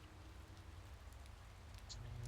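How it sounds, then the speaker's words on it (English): Steady soft rain hiss from the Motorsport Manager racing game, a continuous even wash of light rainfall on the track with a faint low engine rumble beneath and no talk. "Oh no, it's raining a bit."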